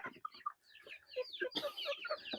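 Darag native chickens clucking up close in a busy, overlapping chatter of short clucks and squawks, growing denser toward the end.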